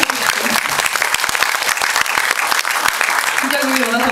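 A lecture audience at a Justice Party event with the Seoul mayor bursts into dense, sustained applause, close and loud with rapid overlapping claps and a few voices underneath for the whole stretch.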